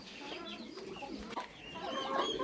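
Turkeys clucking and chattering close by, a busy mix of overlapping calls with no talking.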